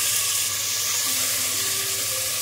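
Tomato, green chili, ginger and garlic paste sizzles steadily in hot oil for an Indian egg biryani, a continuous bright hiss with no pauses or voices.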